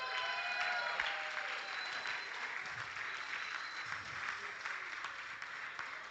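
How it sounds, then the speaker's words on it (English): A big round of applause for athletes in an arena at a regional championship in the Cayman Islands, steady crowd clapping heard from a distance with a faint hollow echo, continuing for several seconds. "Give them all a big round of applause."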